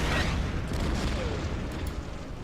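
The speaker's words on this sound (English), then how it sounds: "Artillery will bombard over there" Artillery barrage in the Order of Battle wargame, set on the approach to Stalingrad: a dense, continuous rumble of booming blasts fills the whole stretch, loud at the start and easing slightly toward the end.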